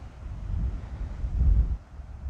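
Outdoor wind buffeting a microphone in a field during metal detecting, a continuous low rumbling roar that swells and dips over a couple of seconds, with no voices.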